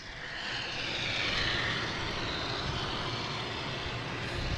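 An airliner arriving from London Heathrow at Boston Logan airport gives off a steady, fairly faint broadband jet roar that holds evenly from a distance throughout.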